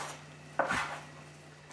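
Vegetables for ratatouille are cut into cubes on a board, with a couple of sharp knife knocks against the surface separated by quiet kitchen hum.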